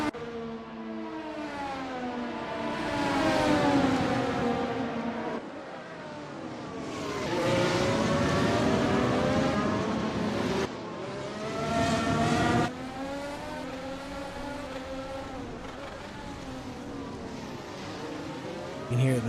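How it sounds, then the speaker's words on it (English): Race car engines in a sim racing game at Interlagos wail through repeated rising and falling revs, with sharp downshifts as cars brake into corners, while a commentator talks over the sound. "You can hear the pinging of the paddle shifters as they slam down 3 gears into towards turn 10."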